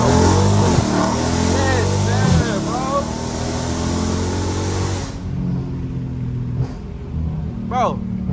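A straight-piped 2022 widebody Dodge Charger roars loudly as it accelerates hard in first gear, the deep exhaust rising, then dropping away to a lower rumble; a voice cuts in briefly over it.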